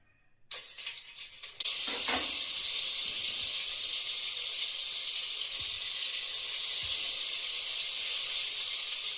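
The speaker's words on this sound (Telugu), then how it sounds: "ఇప్పుడు నూనె కాగిపోయింది, ఇందులో కొంచెం బటర్ వేద్దాం." Butter dropped into hot oil in a pan for pav bhaji bursts into a sudden sizzle, then settles into a loud, steady, close frying hiss that lasts to the end.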